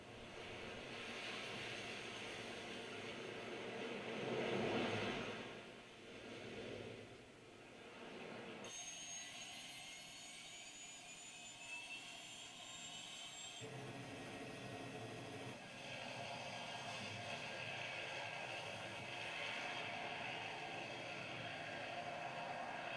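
Continuous droning rotor and engine noise of a helicopter in flight, steady and loud with slight swells, heard from inside the cabin.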